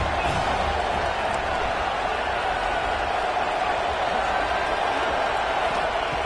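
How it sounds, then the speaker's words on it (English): Football stadium crowd at an Arkansas versus Miami game, a steady roar rising to urge on the defense, continuous and broad throughout with a play-by-play voice faintly under it. "this crowd coming to life here, trying to help the defense get a stop"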